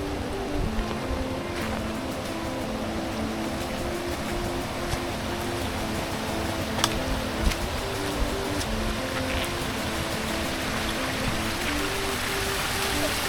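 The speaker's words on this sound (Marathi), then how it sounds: "हे बघ एवढा धबधबा आहे बघा, पाणी बघा" Flowing water at Vangani Bhagirath waterfall during the monsoon near Mumbai, a steady loud broadband rush filling the whole clip, with a faint droning hum and a few brief clicks on top.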